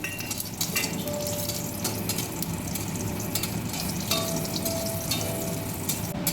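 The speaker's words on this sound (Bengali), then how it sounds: "আমি বড়িগুলো ভেজে নিচ্ছি" Lentil dumplings (bori) fry in hot mustard oil in a kadai with a loud, continuous close-up sizzle that never lets up. Faint utensil scrapes sit underneath, and nobody speaks.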